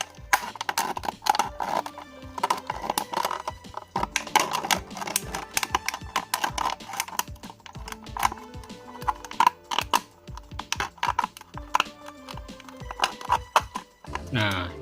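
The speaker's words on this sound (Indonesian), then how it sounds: "Saya menggunakan cutter seperti ini karena tidak ada gunting guys." A plastic bottle is cut with a utility knife, giving a rapid run of sharp scraping clicks and crackles close up that continue steadily throughout, with no speech.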